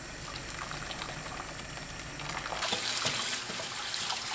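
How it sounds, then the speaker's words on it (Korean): A pot of salted water at a rolling boil for blanching fatsia shoots, heard up close as a soft continuous bubbling and hissing that grows a little louder partway through, with no talk. "끓는 물에 소금 한 스푼 넣고 두릅을 줄기부통 넣어서 2분 데쳐주세요."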